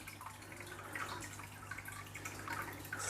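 A new Oase BioMaster Thermo 350 canister filter purges trapped air, giving a soft, continuous gurgle and trickle of water with faint bubbling drips over a low steady hum, quiet and close.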